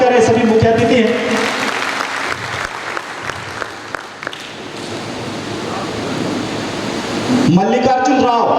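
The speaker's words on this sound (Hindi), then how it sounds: "कृपया जोरदार तालियों से स्वागत करें सभी मुख्य अतिथि हैं।" An audience at a community association formation event in Dantewada claps loudly and steadily to welcome chief guests, with a voice over a loudspeaker breaking in near the start and end.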